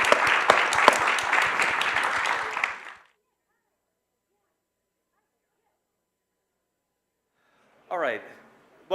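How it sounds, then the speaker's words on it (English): Audience at a sustainability talk applauding the presenters, a burst of dense clapping for about three seconds that fades out, then silence before a brief voice at the end. "give everybody a round of applause for our great presenters today, Amy, Moira, Arup, Ayan, and Galen."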